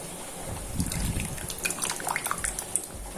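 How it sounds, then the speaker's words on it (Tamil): Tamarind water is poured into a pot of sambar made with coconut milk and lentils, giving a close, continuous liquid pour with splashing and trickling for a few seconds. "கொஞ்சமா புளி தண்ணி நம்ம கரைச்சி இதுல ஊத்திக்க போறோம்"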